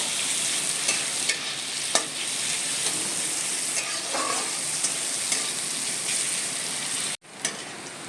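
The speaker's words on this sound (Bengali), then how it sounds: "এবার আমি পেঁয়াজটা ভেজে নেব লাল লাল করে" Chopped onion fries in a pan with an even, bright sizzle, broken by occasional clicks and scrapes of stirring and a brief dip near the end.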